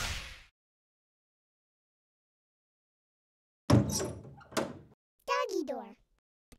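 A doggy door swinging in an animated scene, heard as a couple of knocking thunks and a flapping clatter, preceded by a brief noise and long silence, with a voice following.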